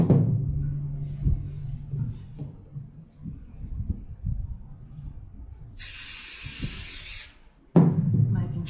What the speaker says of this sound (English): Spray here a little bit more as well.